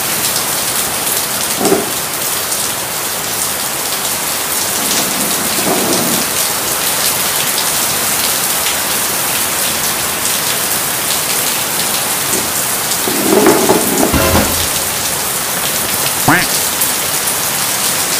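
Steady heavy rain pours down nearby, with a few low rumbles of thunder rolling in beneath it.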